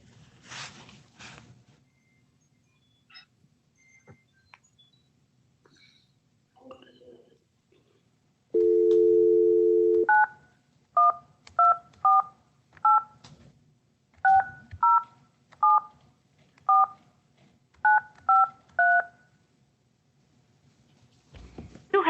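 A steady telephone tone gives way to a quick, uneven run of about a dozen crisp keypad dialing beeps, each short and clear. Faint background murmurs and rustles come before them.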